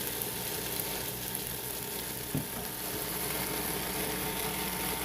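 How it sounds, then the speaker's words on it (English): Shrimp sautéing in a pan, a quiet, steady sizzle and crackle that runs throughout, with one soft knock of a utensil partway, close and without talk. "This is basically a saute for the shrimp."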